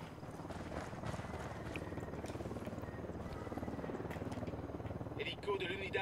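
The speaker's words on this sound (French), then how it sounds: "Hélico de l'Unidad en approche." Helicopter approaching in the video game Ghost Recon Wildlands, a steady rapid rotor thump building slightly in loudness, with a short burst of other game noise near the end.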